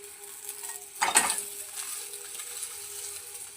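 Sarva Pindi, a Telangana rice-flour flatbread, just flipped in an oiled pan on a stove lets out a sudden loud sizzle that settles into a steady soft frying hiss, with no voices.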